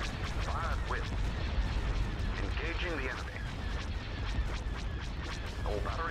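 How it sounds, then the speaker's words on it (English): Artillery batteries firing in the space strategy game Star Wars Empire at War with the Thrawn's Revenge mod, a continuous rumble of repeated booms and blasts layered with chirpy electronic effects, no talking. "All batteries commence firing."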